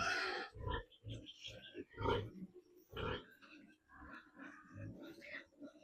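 Pigs on a farm grunting and oinking while being fed, a series of short nearby grunts in an irregular rhythm, mixed with low voices talking.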